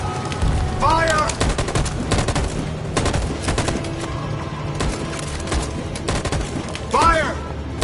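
Sustained gunfire in Detroit: Become Human: loud clustered bursts and scattered shots with heavy booms, continuing throughout, while voices call out over the shooting.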